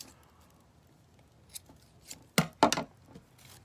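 Scissors snipping a length of string for a homemade Barbie parachute, a few light clicks then two close, crisp cuts near the end, heard alone in a quiet room.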